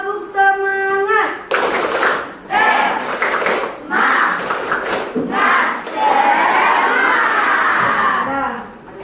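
A classroom of students performs a rhythmic clapping chant, bursts of synchronized claps and shouted voices in a repeating pattern, loud and close, after a teacher's brief call.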